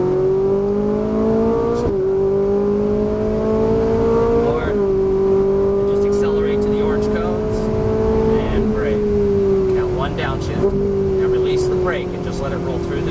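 A Ferrari 458 Italia on a race track accelerates hard in repeated pulls, its engine note rising steadily through each gear before brief dips at the shifts, loud and continuous with someone talking over it.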